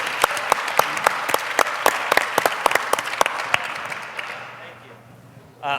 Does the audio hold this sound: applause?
yes